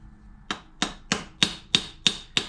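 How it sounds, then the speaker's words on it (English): Hammer blows on a plug in a Rolls-Royce Springfield P1 valve rocker, mushroomed out to fill a loose-fitting hole: seven sharp metallic taps at an even, steady pace, close and clear, with no talk. "hammer out the plug a little bit, mushroom it out"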